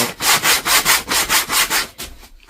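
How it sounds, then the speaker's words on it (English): Sandpaper rubbing back and forth over wallpaper edges inside a T4 campervan, about nine quick, even strokes in a steady rhythm, close and fairly loud, trailing off into a softer scrape at the end. "Now I have to sand off the edges"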